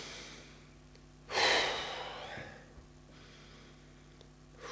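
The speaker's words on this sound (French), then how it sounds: "Au début, on fait quelques grandes respirations." One deep, audible breath taken during a cardiac coherence relaxation exercise, a breathy inhalation-exhalation rising and fading over about a second and a half, close and quiet against a near-silent background.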